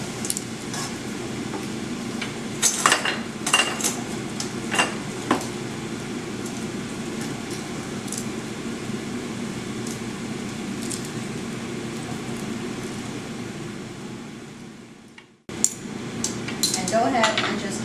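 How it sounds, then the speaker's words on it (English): Soba noodles and vegetables are tossed together in a pan, with a utensil clinking and scraping against the metal in uneven strokes, close and moderately loud, broken by a brief pause near the end. "add the soba noodles in here to the vegetables so we can get everything combined"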